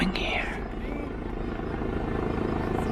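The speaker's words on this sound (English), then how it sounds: "A helicopter. What is it doing here?" A helicopter flies overhead in a remote jungle setting, a loud, steady rotor drone that stays constant throughout, with a brief rising whine near the start.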